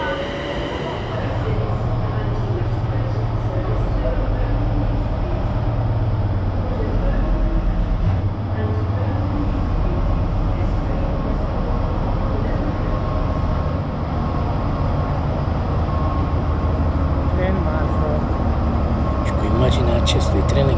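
A train runs through Northampton station, a steady loud rumble of wheels and carriages holding for the full stretch with constant low-end roar and rail noise, no talk over it.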